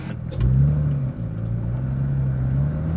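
A 2018 Porsche 911 GT3 with a manual gearbox pulls away onto the road, its engine heard from inside the cabin as a low, steady drone that rises briefly in pitch, dips, then climbs again smoothly.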